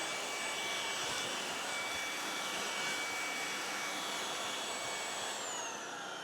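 Tineco PURE ONE S11 cordless vacuum cleaner running in max mode on deep pile carpet, a loud, steady, high-pitched whooshing roar with a faint whine that continues unbroken, close by and alone.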